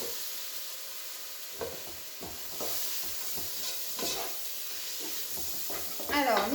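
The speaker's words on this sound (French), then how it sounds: "vous faites revenir" Sliced zucchini sautés in a pan, making a steady sizzle and hiss, with repeated stirring scrapes and clinks that come through clearly.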